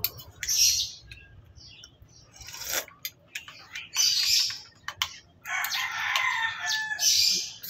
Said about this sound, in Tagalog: Sarap pakinggan ng mga huni ng ibon.